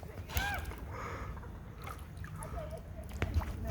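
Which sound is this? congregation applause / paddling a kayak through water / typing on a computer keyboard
paddling a kayak through water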